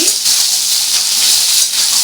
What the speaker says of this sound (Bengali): এই আলু যখন ভাজছি